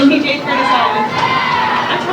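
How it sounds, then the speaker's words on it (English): The home crowd at a North Central vs North Daviess boys varsity football game keeps up a loud, steady roar of cheering and chatter, while a commentator talks over it. "We are above the home crowd, and they like that play."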